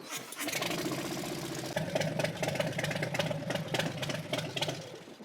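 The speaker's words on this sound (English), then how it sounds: "So now what we're gonna do is warm the bike up again and do a hot level oil check." A Harley-Davidson motorcycle engine idles steadily while warming up before a hot oil level check, a close, continuous low rumble with a loping pulse that steps up slightly partway through and runs alone without talk.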